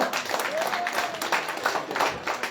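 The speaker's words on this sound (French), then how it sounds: "Mesdames, messieurs, je vous demande d'applaudir Louis Laurence" Audience applause for Louis Laurence at a public conference on Place des Caraïbes in Le Carbet, steady scattered clapping across the whole stretch with a brief tonal whistle-like sound early on and faint voices underneath.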